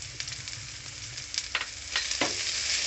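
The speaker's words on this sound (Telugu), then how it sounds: "ఈ యొక్క మటన్ ఇగురు మసాలా అడుగు అంటుకోకుండా బాగా వేపుకోవాలండి." Mutton iguru masala fries in a pan, a faint steady sizzle with scattered scraping stirs of a spoon across the bottom, growing a little louder toward the end.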